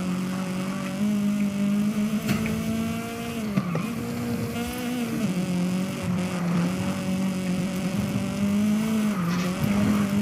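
A race car in the Forza video game holds a steady engine drone with tire squeal as it skids and snaps loose on a winding touge road, continuous and fairly loud, with no talk.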